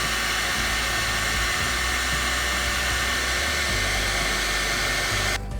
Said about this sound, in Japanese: でドライヤーを